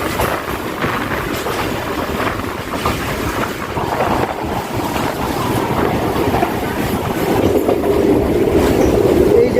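A commuter train runs on rails from Sealdah toward BBD Bag past a dockside with ships, its steady rumble and wind roar holding loud throughout and swelling slightly toward the end, with no voices.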